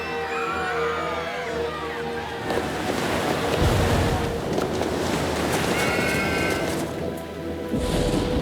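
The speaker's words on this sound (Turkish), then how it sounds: "Sahil şeridinde şiddetli yağmurlar yağıyor, deniz seviyesi hızla yükseliyor." Loud, continuous roar of rough stormy sea surf, wind and rain, with crashing water and a faint high whinnying cry over the churning noise.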